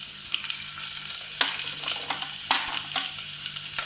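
Garlic sizzles as it hits a hot frying pan for a beetroot soup, a steady crackling fry broken by a few sharper bursts as it is stirred.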